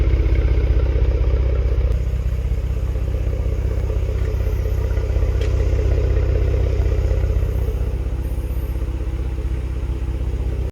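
Genesis G70 3.3 fitted with a variable exhaust, carbon tips and an HKS blow-off valve, idling with a steady low rumble that holds close and constant without revving.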